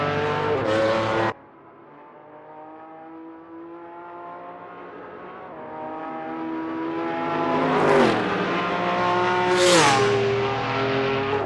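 Historic race car engines roar in the Assetto Corsa racing game at Sebring, a loud droning whine that drops sharply after a gearshift, then climbs again with two rising bursts of revving as cars accelerate.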